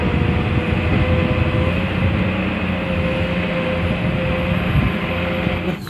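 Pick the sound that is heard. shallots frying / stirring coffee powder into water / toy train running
toy train running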